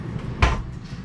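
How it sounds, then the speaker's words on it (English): A pull-out kitchen cabinet drawer slides back in and lands with a single short, solid knock, close and clear in a quiet room. "We're gonna put this drawer back in, and here we go."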